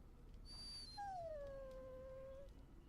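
A dog in the video game Dragon Age: Origins gives a high, thin whine that slides into a longer, drawn-out whimper, quiet and alone over a low background hum.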